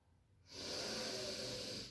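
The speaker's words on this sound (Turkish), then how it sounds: "Tekrar derin bir nefes alıyoruz." A single slow, deep inhalation through the nose, close and soft, rising after a brief quiet moment.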